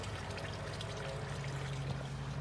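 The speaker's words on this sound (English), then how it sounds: "Bit of a waterfall thing going on." Steady water trickling and splashing from a small waterfall in a garden pond outdoors, a continuous close wash of sound with low background rumble.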